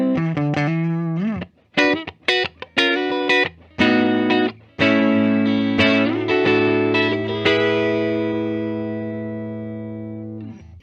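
A 2021 Epiphone Les Paul Standard Axcess Alex Lifeson electric guitar on its neck pickup, playing close and loud with a short run of picked notes, then sustained ringing chords through effects with chorus and reverb.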